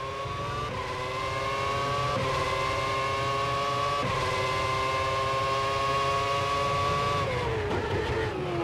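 A 2008 Formula One car engine in the rFactor racing game mod, a high, steady whining drone holding its pitch for several seconds before dropping briefly and rising again, continuous and moderately loud, no voices.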